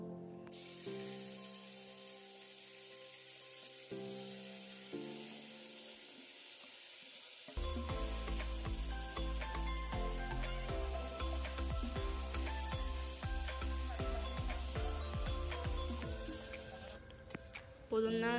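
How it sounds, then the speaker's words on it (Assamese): Marinated chicken for biryani hits hot oil in a pressure cooker. After a quieter start, a loud, dense, steady sizzle with hiss takes over and continues to the end. "এতিয়া মেৰিনেট কৰা মাংসখিনি ইয়াত যোগ কৰিম।"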